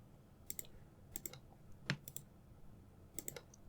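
Light, quick computer keyboard typing in short bursts of clicks with pauses between, fairly faint and close, no voices.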